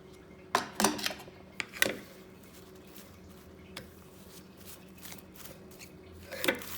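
Chicken potato ball mixture with cheese, parsley, spring onion, black pepper and pepper powder being mixed in a bowl: a few quiet scraping clinks in two short bursts near the start, another near the end, with soft stillness in between.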